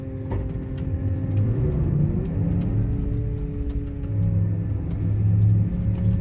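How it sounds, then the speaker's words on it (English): A car driving ahead slowly during steering calibration, a steady low engine rumble with a gently shifting drone, close and continuous with no talk. "Now we will drive ahead."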